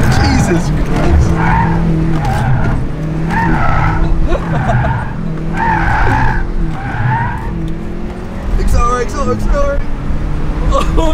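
A Hyundai car's tyres squeal in repeated skids during a precision braking exercise on a driving course, loud and close, with excited voices talking over them.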